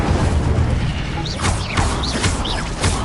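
Incendio fire spell being cast in a Harry Potter video game on PS4, a loud burst of whooshing, crackling magical effects with rising whistle-like tones over a steady, dense roar.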